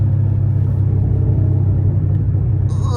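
Car exhaust rumbles loud and close on a downshift, a deep steady throb with faint popping burbles layered through it, heard from inside the cabin.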